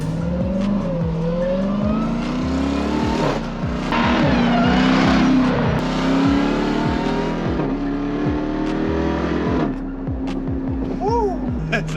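Jeep Trackhawk accelerating hard on a drive, its engine note rising and falling in repeated loud surges as it shifts through gears, with people talking and exclaiming over the roar throughout.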